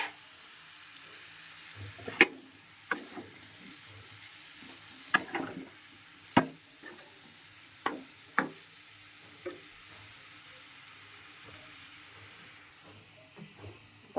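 Soybean chunks frying in a spiced pan, with a steady soft sizzle under intermittent sharp clinks and scrapes of stirring, close and moderately loud.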